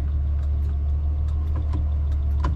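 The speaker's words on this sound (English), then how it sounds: "Very smooth running flathead V8 car." A 1953 Ford Victoria with a flathead V8 and three-on-the-tree manual gearbox runs smoothly, giving a steady, close low rumble with a faint even ticking, and no talk over it.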